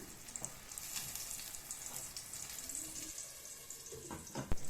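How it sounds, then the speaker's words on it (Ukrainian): Steady crackling sizzle of oil frying in a heated pan with sausage-filled dough pastries, a continuous hiss with scattered pops and a sharper burst near the end. "ставимо сковорідку, вона нагрілася, наливаємо туди олії і жаримо."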